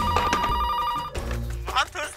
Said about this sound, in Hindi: मेरा दूसरा फोन आ रहा है।